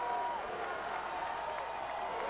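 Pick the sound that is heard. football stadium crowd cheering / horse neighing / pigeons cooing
football stadium crowd cheering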